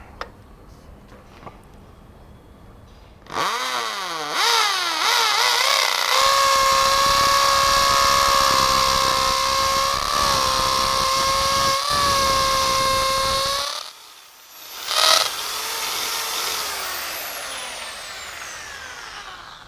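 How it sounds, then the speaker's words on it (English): A Bosch GSB 13 RE impact drill in hammer mode bores an 8 mm hole, a loud steady whine with rattling hammer action that spins up, runs for about ten seconds, dips briefly and then winds down. "we drill a 8 mm hole and then fix the anchor"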